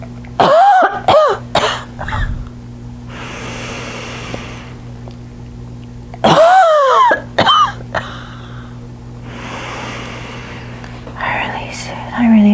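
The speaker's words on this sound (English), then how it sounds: "Cough it all out." Coughing and throat clearing from a person close by during a guided release session, several harsh bursts in two clusters with breathy whispering and quiet pauses between them.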